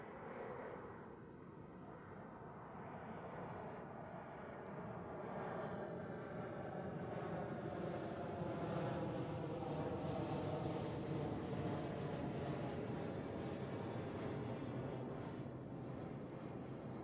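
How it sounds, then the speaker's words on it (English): A Swiss Airbus A220 arriving from Düsseldorf passes at Zurich Airport, its engines a steady, broad roar that swells slowly and holds for many seconds at moderate distance, with no voices. "next, Swiss A220 from Düsseldorf"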